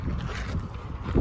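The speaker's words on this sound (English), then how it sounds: "I don't know if you can hear me because it's windy." Wind buffets a Death Valley campground, a loud low rumbling rush with gusty pulses close to the microphone throughout.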